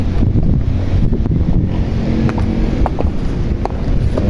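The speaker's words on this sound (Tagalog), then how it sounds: "Ayan, medyo malakas na yung hangin." Strong typhoon wind roars and buffets the microphone continuously, a dense low rumble with occasional gusty swells, loud and close throughout.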